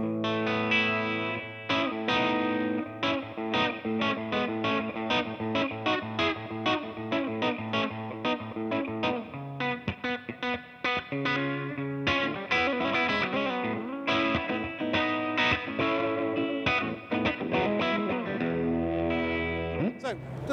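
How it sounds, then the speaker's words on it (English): Clean electric guitar played through a Laney CUB Super Series valve amp with a handmade Secret Path reverb, a steady run of picked notes and chords at even volume, close and alone. "the reverb is taken directly from our handmade in the UK Secret Path reverb, and it sounds a little bit like this"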